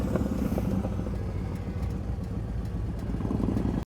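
An engine, apparently a motorcycle's, runs steadily at close range with a rough, throbbing low rumble held at high throttle, with no talk over it.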